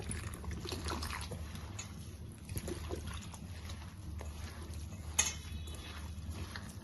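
Water is poured into rice flour and rice rava being mixed into a stiff dough for cucumber thalipeeth, giving a faint trickle and wet mixing sounds against quiet kitchen background.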